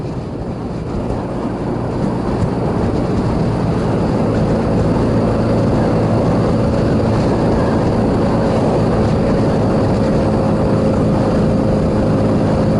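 A 1988 Honda VF750c Super Magna motorcycle cruises into Milford, its steady engine drone rumbling loud and continuous beneath heavy wind rush throughout, with no talking.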